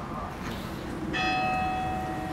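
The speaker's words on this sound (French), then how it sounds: "vous entendez les cloches." Church bells begin ringing partway through, clear sustained tones over a low murmur of a gathered crowd at a memorial tribute for the Charlie Hebdo attack victims.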